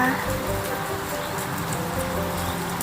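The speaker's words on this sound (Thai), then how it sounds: "ฝนตกหนักมากนะคะ" Steady hiss of heavy rain pouring down during a storm, a dense continuous wash with faint drips, and a voice talking under it.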